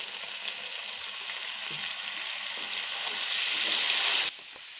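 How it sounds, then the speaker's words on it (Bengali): Pasta cooking in a pan while being stirred and mixed, a continuous sizzle and hiss with faint scraping of the utensil, rising slightly before cutting off abruptly near the end. "ভালো করে নেড়ে চড়ে মিক্স করে নেব"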